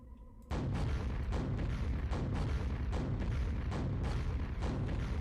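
Rapid weapon fire aimed at a fiend in Quake, a steady barrage of loud, dense shots and booms starting abruptly after a brief quiet moment and continuing without pause.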